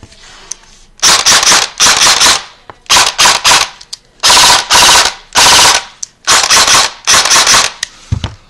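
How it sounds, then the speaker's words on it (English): Echo1 Genesis M4 airsoft gun on a LiPo battery fires several loud, close full-auto bursts, each a rapid buzzing rattle of BBs about twenty per second, separated by short pauses. "let me shoot this with a LiPo"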